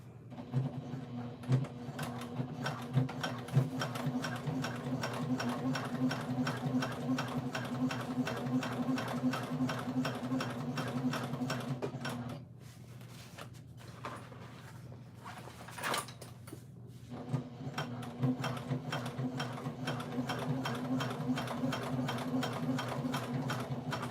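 A sewing machine stitches a backpack with variegated thread, running in a steady fast rhythmic whir for about twelve seconds, pausing briefly, then resuming the same even stitching.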